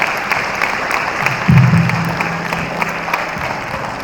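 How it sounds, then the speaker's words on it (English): An audience applauds children after a performance at a school event, a steady crowd clapping under a brief low tonal hum that rises midway and then fades. "I will request all of you to please give a huge round of applause for the children"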